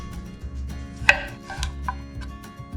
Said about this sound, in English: slice them in half, and then we're just going to dehydrate them in the oven